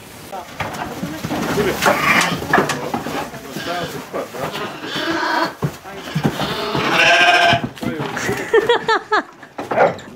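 Sheep bleat repeatedly during a rough sheep-catching rodeo on a rural farm, cries rising and falling amid a busy mix of loud talking voices and scuffling.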